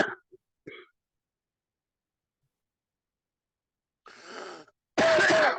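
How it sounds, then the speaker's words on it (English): Several coughs and throat-clears from a man with a cold, a couple of brief faint ones near the start, then a louder burst and a final harsh, close cough at the end after a long silence. "now I got all the coughs"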